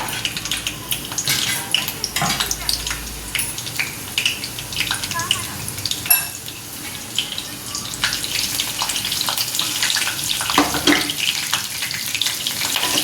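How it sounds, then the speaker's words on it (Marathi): Whole spices (bay leaf, cinnamon, cloves, peppercorns, star anise) and green chillies frying with fried onion for veg biryani, a busy sizzle mixed with utensil clinks and scrapes, close and fairly loud. "कांदा झाला तळून, त्याच्यात टाकते आता फूल, तेजपत्ता, दालचिनी, लवंग, मिरे, दोन हिरव्या मिरच्या,"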